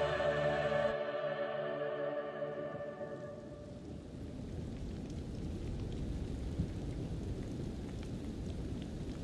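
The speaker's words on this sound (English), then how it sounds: "Cold, rainy days." Rain and thunder in the horror video game A Little Hope: a deep rolling thunderclap opens over a tonal backdrop, then heavy steady rainfall hisses on alone for several seconds.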